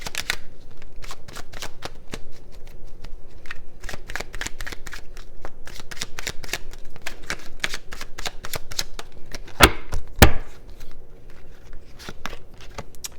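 Tarot cards are shuffled during a reading, giving a steady stream of crisp riffling clicks and flicks close up, with a few louder snaps near the end.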